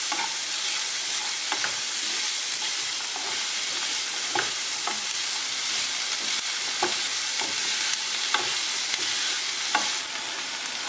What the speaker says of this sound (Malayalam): ഇതിലേക്ക് നമുക്ക് സവാള ഇട്ട് കൊടുക്കാം. നമുക്കിതൊന്ന് വഴറ്റിയെടുക്കാം.